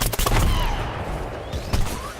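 A chili bean bomb bursts in the shooter game Plants vs Zombies Garden Warfare, a loud cluster of rapid explosive cracks and booms with a rumbling tail, followed by a few more scattered blasts.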